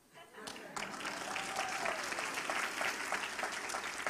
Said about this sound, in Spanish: Alguien aplaudió.